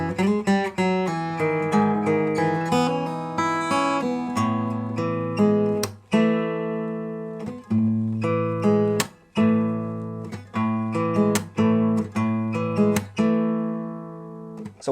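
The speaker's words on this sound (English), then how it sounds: "you're going to pluck the same 2 strings with these 2 same fingers." Acoustic guitar fingerpicking, two strings plucked together by the same fingers in a steady repeating pattern over a held bass note, clear and close with no talk.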